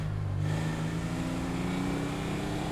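A car drives and overtakes in the video game GTA V: a continuous, steady engine drone with a slight rising pitch, loud and close, with no voices.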